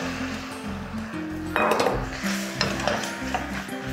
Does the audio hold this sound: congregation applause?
no